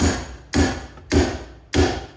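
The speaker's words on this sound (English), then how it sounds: "at this point I can just hammer it in" Four sharp metallic hammer blows driving a tie rod separator on a 2008 Infiniti FX35 sway bar link job, evenly spaced about half a second apart, each ringing briefly before the next strike, close and loud.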